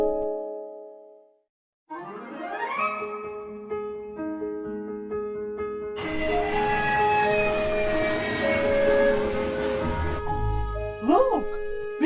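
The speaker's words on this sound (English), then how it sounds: "Please fasten your seatbelt, because the plane is going to take off soon." A passenger airplane taking off, heard from the cabin as a rising engine roar that builds and holds steady beneath tonal hums and layered sounds, with no clear talk.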